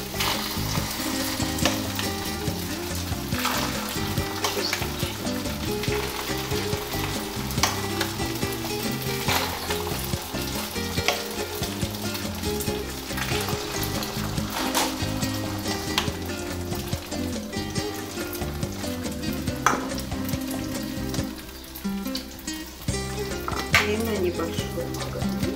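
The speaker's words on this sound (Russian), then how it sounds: "Теперь на небольшую сковородку уже с разогретым маслом мы выкладываем нашу" Batter fries in preheated oil in a small pan, giving a constant close sizzle with occasional clinks of utensils and stirring throughout.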